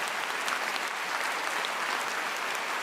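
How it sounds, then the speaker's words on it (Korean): A large church audience applauds in a full, continuous roar of clapping, dense and even with no break, moderately loud throughout. "우리 한번 최경주 형제를 위해서 격려와 사랑의 박수를 한번 합시다."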